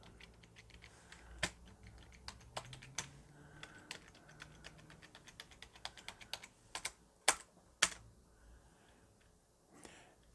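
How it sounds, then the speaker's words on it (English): Keys pressed on a computer keyboard, scattered clicks at an uneven pace with a few sharper, louder strikes, close but quiet over a faint background hiss, with no talking. "Press every key on the keyboard."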